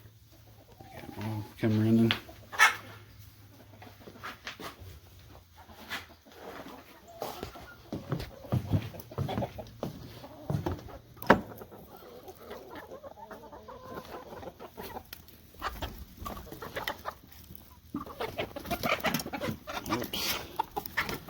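Backyard chickens cluck softly and intermittently nearby, with occasional rustling and clatter, while a person speaks briefly.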